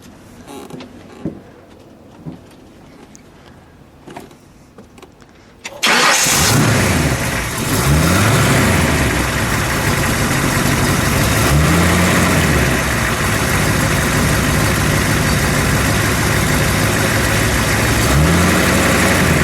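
A 1932 Ford four-door custom restomod hot rod engine cranks and catches after a quiet stretch, then settles into a loud, steady idle with a rumbling exhaust note that continues to the end.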